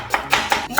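Knife slicing through a carrot for a Korean chive pancake, four crisp cuts spaced about a fifth of a second apart, close and fairly loud with no talking.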